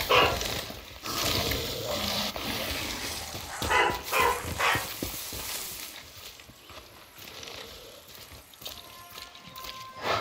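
A dog barks intermittently in Far Cry 6 against a busy background of game ambience and other noise. The barks come at moderate volume, mixed in with hoof-like clopping.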